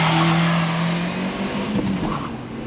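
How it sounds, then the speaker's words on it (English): A Toyota Starlet EP91 launches from a standstill with wheel spin, engine revving hard over a loud steady drone for a couple of seconds before the pitch shifts and the sound begins to fade. "God, there's a lot of wheel spinning."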